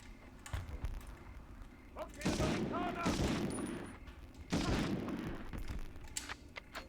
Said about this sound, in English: So the shooting feels alright, the weapon feels powerful enough.